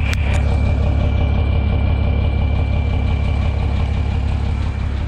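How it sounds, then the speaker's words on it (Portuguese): A 2001 Chevrolet Silverado D20 pickup sits idling with its engine running, a loud, steady low rumble with a faint high whistle riding on top, continuous and close, with nobody speaking. "Olha só o barulho dessa caminhonete"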